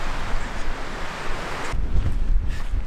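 Strong, blustery wind gusts buffet the microphone on an exposed ridgeline in Arizona's Mogollon Rim country, a continuous loud roar that surges heavier partway through with deep low rumbling.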